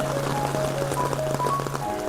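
Light rain falls in Namo Garden, a soft steady patter on surfaces with a faint trickle of water, continuous and fairly close, with no talking.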